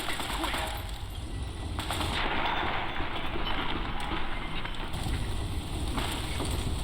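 Bursts of gunfire with dense crackling shots in Fallout: New Vegas, steady noisy firing throughout with a few louder swells and no clear talk over it.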